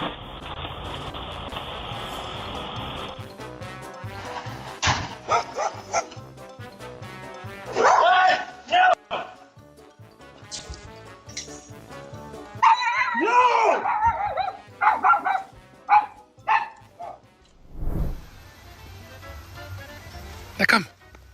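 Dogs bark at a package delivery in several loud, close bursts, mixed with yips and whimpers, with stretches of talking between the barking.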